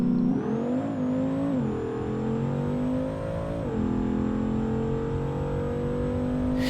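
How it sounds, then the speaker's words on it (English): Nitrous-boosted Bruckell Bastion drag car in the BeamNG game, engine droning loud and steady at close range, pitch climbing in stepped rises with each gear change. "we're going to turn on the nitrous for the next pass."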